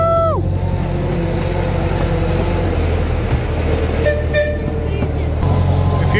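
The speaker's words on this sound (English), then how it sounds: "And another train just about to set off." An amusement park ride train at a seaside pleasure beach sets off, a steady low rolling rumble with a short horn-like tone at the start and faint crowd voices and chatter around it.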